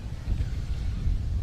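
Strong wind buffets the microphone at an outdoor Little League baseball park, a steady low rumble of gusts throughout, loud and close with no voices.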